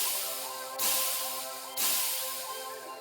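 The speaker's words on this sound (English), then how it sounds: "You can hear the familiar hissing sound all around you" Hissing from a video game rises across the whole space in two sudden bursts, each swelling loudly and then slowly thinning out, over a steady tonal hum.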